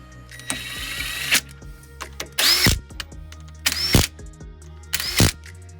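A power tool tightens the wheel spacer studs on a Ford Fiesta MK6 hub in three loud close whirring bursts, each ending as the stud seats, with quieter clicks and shuffling between them.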